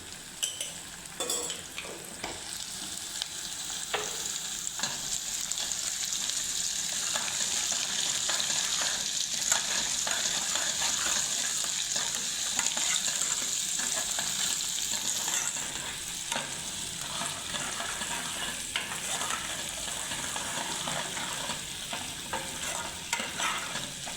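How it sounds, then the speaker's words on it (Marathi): Ginger and garlic fry in a pan with a steady, bright sizzle while a spoon stirs them, adding scraping and clinking, a close, continuous hiss that holds for the whole stretch. "अद्रक लसूण टाकलेलं आहे तर बुडायला लागायला नको म्हणून याला हलवत राहायचं आहे, नाहीतर अद्रक लसूण तळाला चिपकतो"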